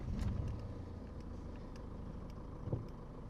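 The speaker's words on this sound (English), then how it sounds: "I'm just going to turn the car on so there's a little bit of background noise" A car engine idles steadily nearby, a low continuous rumble with a couple of faint clicks and a small bump near the end, no talking.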